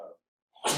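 A single sneeze in a classroom: a brief burst, then a short silence, then a loud sharp explosive release close to the microphone.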